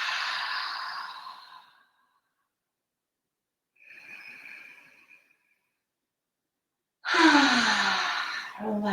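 Deep breathing during an evening qigong stretch, a long airy exhale, a softer breath partway through and a strong inhale near the end, close to the microphone.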